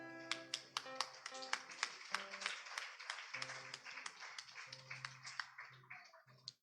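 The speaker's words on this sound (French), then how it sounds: "Nous vous demandons de les applaudir" Rhythmic hand claps ring out at a steady beat over sustained tones of music or singing at a church wedding ceremony, honouring the ladies' group, loud and close throughout.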